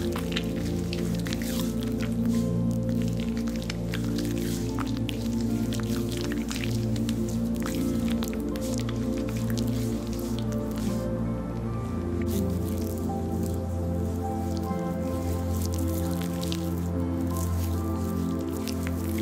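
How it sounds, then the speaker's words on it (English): Oil poured into the hands and rubbed between the palms for a DIY foot treatment, giving continuous wet squishing and slick rubbing up close, a steady run of soft sticky sounds with no talking. "I'm pouring a generous amount of oil into my hands."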